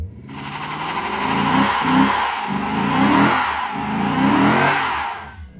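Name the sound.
Lexus IS 500 V8 car doing a burnout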